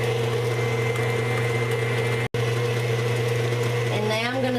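Electric mixer beating butter and cocoa for chocolate buttercream, a steady loud motor whir with constant tone that dips out briefly midway, then rises in pitch near the end.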